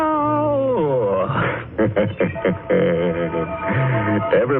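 A cat meows loudly and close by, drawing out a long, wavering yowl followed by several shorter, rising meows.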